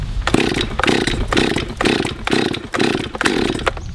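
A gas chainsaw on choke pops and sputters in six regular bursts while being pull-started outdoors, each close, loud cough separated by short gaps.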